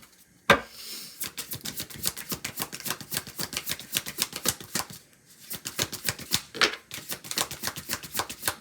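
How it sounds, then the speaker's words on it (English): A deck of tarot cards being shuffled by hand, crisp rapid riffling clicks in two long bursts separated by a short pause, close and clear with no talking. "I only shuffle this deck 3 times"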